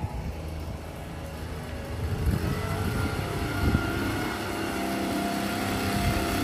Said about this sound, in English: Come and bring the blower.